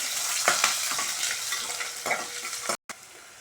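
Garlic sizzling and frying in a pan, a steady crackling hiss with occasional louder stirring scrapes, close by, briefly cutting out near the end.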